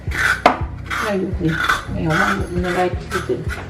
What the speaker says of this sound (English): Just use a knife and scrape the carrot clean.